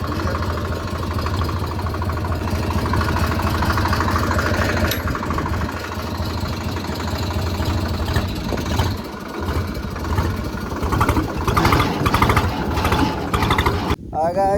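Massey tractor engine running with a steady low mechanical chug throughout, while a person talks over it; a brief dropout comes near the end.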